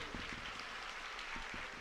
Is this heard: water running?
no